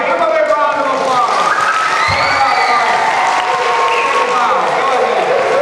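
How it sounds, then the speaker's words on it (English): Audience applause with cheering and children's shouts from a crowd at a children's book-time show, dense steady clapping throughout with excited voices calling out over it. "Mr. Damari, give him a big round of applause."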